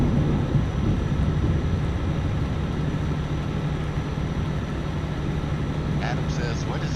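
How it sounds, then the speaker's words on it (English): Rain and thunder in Euro Truck Simulator 2: a constant loud hiss of rain with low rumbling underneath, steady from start to finish, heard from inside a truck. "Nasty rain and scary thunder."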